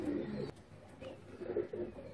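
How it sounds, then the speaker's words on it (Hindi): A green pigeon gives soft, low cooing calls close by indoors, a few faint murmuring notes over quiet background hiss. "तो ये तीसरा मेरे पास हरा कबूतर है"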